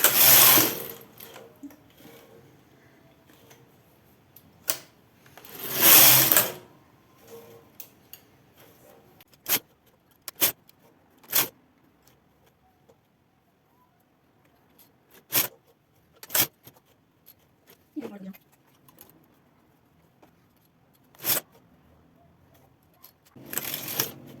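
A Brother hand-operated knitting machine knitting a sock, sharp rattling carriage passes and clicks separated by quiet pauses, with a few longer sweeping runs at the start and end.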